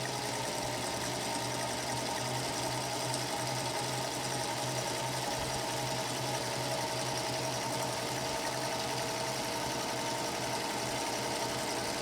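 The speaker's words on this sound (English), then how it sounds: "Going to run my sewing machine along the end and make sure it's secure," A sewing machine runs continuously, stitching the edge of a fabric face mask, its steady mechanical whir and rapid needle chatter close and even from start to finish, with no voices.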